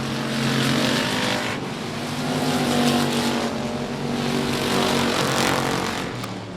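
Race cars roaring around the South Texas Speedway track during a heat race, a continuous loud engine drone that swells and recedes as cars pass, with no talk over it.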